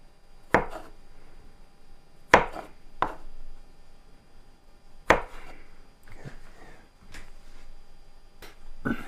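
A knife chops celery stalks on a cutting board for a casserole, with sharp, sparse thuds near at hand separated by quiet gaps and softer handling noises.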